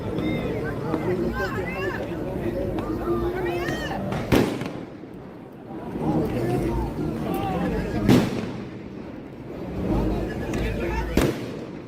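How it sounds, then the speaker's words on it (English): Rubber bullets and stun grenades fired at a crowd, several sharp loud bangs spaced a few seconds apart over constant crowd babble and voices. "They're firing rubber bullets and the stun grenades"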